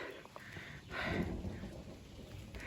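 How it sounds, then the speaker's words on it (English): Rain patters steadily on a ridge while a low rumble of thunder swells briefly in the middle, distant and soft, with no voices. "So it's starting to rain"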